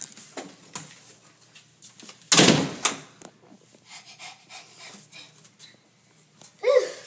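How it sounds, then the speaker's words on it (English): In the game Five Nights at Mario's, a door slams shut with one loud, abrupt burst partway through, followed by quieter ambient game noises and a second burst of sound near the end. "I better go shut the door."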